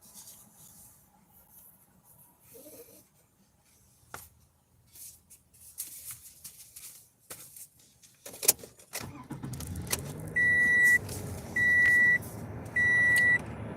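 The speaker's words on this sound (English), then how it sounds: "I can't keep turning the car on." A car engine turns over and settles into a steady idle after some light handling and clicking noises, with three evenly spaced electronic chime beeps sounding over the running engine; no one speaks.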